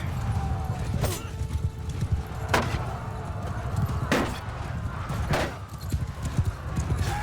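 Horses gallop across the battlefield in Mount & Blade II: Bannerlord. Separate hoof-like strikes land every second or so over a low, steady rumble of battle, moderately quiet and with no clear talk.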